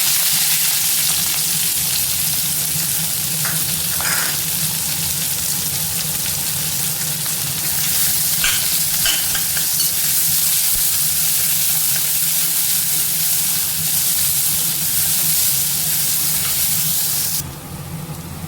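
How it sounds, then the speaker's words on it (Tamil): Mustard seeds, onion and green chilli sizzle in hot oil for a hotel-style carrot poriyal, a steady, loud, continuous crackling hiss with no pauses and no one talking. "எண்ணெய் காய்ஞ்சிருச்சு, நம்ம கடுகு சேர்த்துக்கலாம். வெங்காயமும் பச்சை மிளகாயும் சேர்த்து"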